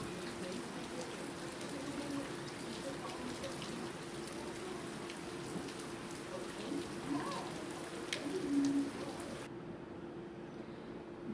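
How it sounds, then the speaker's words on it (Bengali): Heavy afternoon rain pours steadily and evenly, a dense continuous hiss that stays moderately loud throughout and cuts off abruptly near the end, with no voices. "বিকেলে খুব বৃষ্টি হচ্ছে আমাদের এখানে।"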